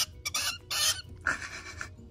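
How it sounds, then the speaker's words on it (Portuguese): Hen clucking at a farm where pairs of fowl are kept, a few short, loud bursts of clucking in quick succession, close by with no talk. "Agora, pessoal, vamos aqui olhar a galinha."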